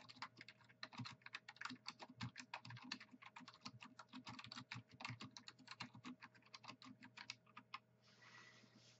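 Close, fast typing on a Matias Quiet Pro keyboard with the keys pressed lightly, never bottomed out: a dense, uneven patter of soft clicks that runs almost continuously, then stops near the end, leaving only faint hiss.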